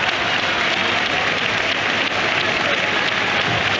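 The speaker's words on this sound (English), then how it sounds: "So there's applause for him." A football crowd at Fulham's Thames-side ground applauds substituted Fulham player Cedric Suarez during an FA Cup match against Leeds United, a dense, continuous wall of clapping heard loud and unbroken.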